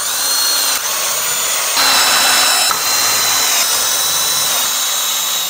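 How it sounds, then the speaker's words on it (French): A power drill drives a screw through a batten from inside during plasterboard ceiling work, giving loud, high-pitched whirring bursts that start and stop several times. "Et je viens le visser par l'intérieur."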